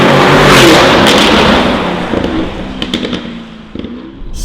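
Novitec Lamborghini Urus S Esteso widebody with a complete Novitec exhaust system, revving loudly up close with a sustained roar that eases off, followed by several sharp crackles and pops from the exhaust.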